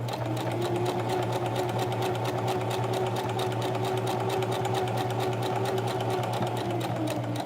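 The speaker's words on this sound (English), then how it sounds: "I'm just gonna sew right over the original stitch that's here" A sewing machine stitches through denim jeans along an existing seam, a loud, rapid, even mechanical whirr running continuously from start to finish with no talk.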